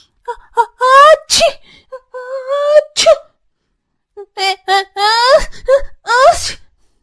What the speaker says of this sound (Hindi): तभी दोनों बच्चे ठंड से छींकने लगते हैं।